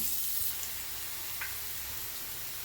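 Sliced onion sizzling in a pan of hot oil with peppercorns, a steady continuous hiss with a faint clink near the middle, no talking.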